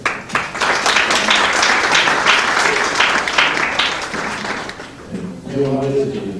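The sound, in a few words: audience applause for a lecturer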